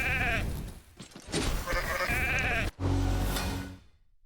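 Sheep bleating in the video game Raid Shadow Legends, with several loud, wavering cries in quick succession, each bleat close and clear amid busy game sound effects.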